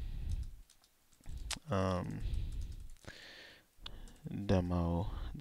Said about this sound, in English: So I'll just type some random stuff to